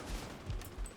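Gunfire in a video game while shooting at an enemy: a short, fairly quiet cluster of rapid shots and low thuds, with no talk.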